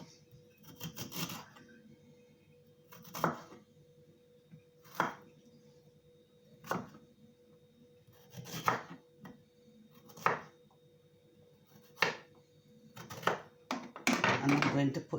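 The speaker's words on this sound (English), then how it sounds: "I'm going to cut them up in small pieces." Fresh ginger is chopped into small pieces with a knife on a board, giving sharp, separate chops at irregular intervals a second or two apart, close and clear, with a quick burst of cuts at the end and a voice talking softly between them.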